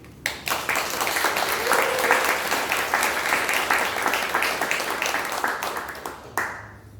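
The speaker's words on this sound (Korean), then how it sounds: "황 교수님 오셨는데 일단 박수 한번 주세요." An audience at an invited lecture claps to welcome a guest professor. The applause starts abruptly, stays dense and even for about six seconds, then cuts off, leaving a quiet room.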